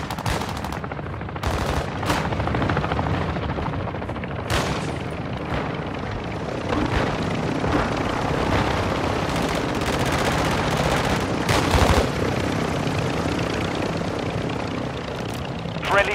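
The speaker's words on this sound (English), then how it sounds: "Friendly chopper gunner on station." Helicopter chopper gunner killstreak in Call of Duty: Modern Warfare II: a loud, continuous rotor drone with bursts of heavy gunfire and scattered explosions through a busy battlefield mix.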